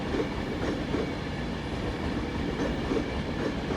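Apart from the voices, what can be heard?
Class 390 train passing at Carlisle station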